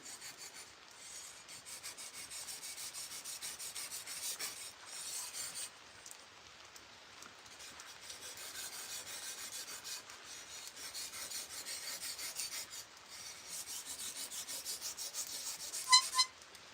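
A sword blade scrapes back and forth on the 6,000-grit finishing side of a whetstone, giving faint, steady, rhythmic rasping strokes up close with no talk.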